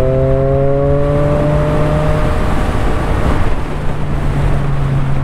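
A Triumph Street Triple R 765 motorcycle with its exhaust dB killer removed runs loud and close, its engine tone sliding down in pitch before settling into a steady, throaty drone.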